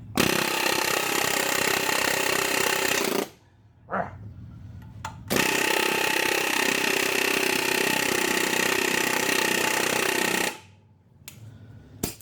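Snap-on pneumatic air hammer pounding on a stuck part, a loud, close, continuous rapid hammering that runs for several seconds, stops briefly, then resumes in a second long burst.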